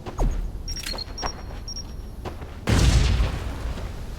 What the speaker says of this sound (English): Okay, more grenades.